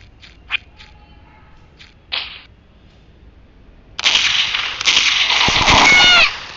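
Gunshots in the mobile game Mini Militia, with a few short sharp cracks early on, then a loud dense burst of sniper-rifle fire and impacts lasting about two seconds, close and prominent with no talking.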